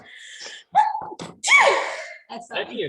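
A person sneezes once, loud and close, with a sharp gasp before it, as voices talk briefly around the sneeze.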